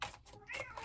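A cat gives a short, soft meow, close and faint, lasting under a second.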